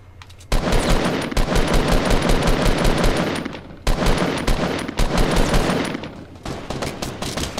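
Rapid automatic gunfire in the battle royale game Fortnite, loud, close and sustained, with dense bursts running nearly nonstop and only brief breaks between strings of shots.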